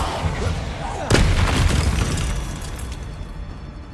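Bombarda spell blast in Hogwarts Legacy: a sudden loud booming burst with a rumbling decay over a few seconds, following a short spoken incantation.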